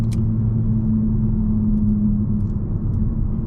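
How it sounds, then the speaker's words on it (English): A 2024 Kia K5 GT Line on a rough road gives a steady, low cabin rumble of tire noise, constant and fairly loud with no talk. "See, there's some of that tire noise that I was talking about."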